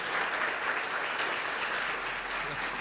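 Church congregation clapping at an evangelical regional conference in Curitiba, a dense, steady wash of hand claps filling the room for a few seconds with no one speaking over it.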